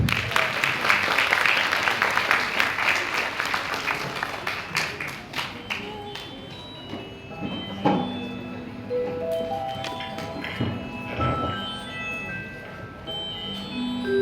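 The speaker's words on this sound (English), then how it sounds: "I just request you all to applaud as much as possible for our children, to encourage them." An audience at a junior Independence Day celebration applauds children, a loud burst of clapping at first that thins into scattered claps with some faint background noise.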